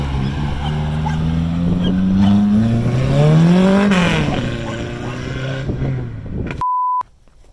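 A 24 Hours of Lemons race car revs and drives off from a garage, its engine pitch rising and then falling as it pulls away, followed by a short electronic beep.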